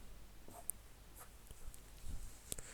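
A pen or pencil writes the number 3247 by hand for a square root problem, leaving faint scratchy strokes and a few small taps against a quiet background.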